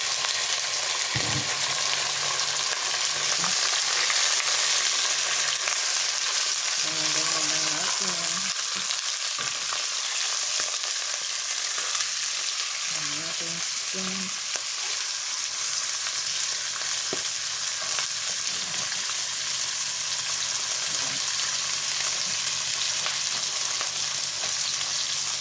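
Chicken frying in a pan, a loud continuous sizzle and crackle that fills the whole stretch, with occasional faint clinks and stirring sounds beneath it and no talking.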